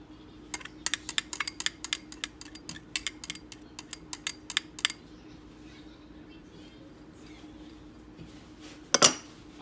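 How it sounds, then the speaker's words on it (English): A knife chops onions on a board in a quick run of sharp, close taps for about five seconds, then falls quiet. A brief clatter follows near the end. "So I'll just cut a few onions up."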